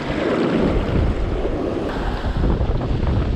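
Ocean surf breaking hard against a beach where people are fishing from shore, a loud, continuous roar of crashing waves mixed with heavy wind buffeting close to the microphone, with no voices.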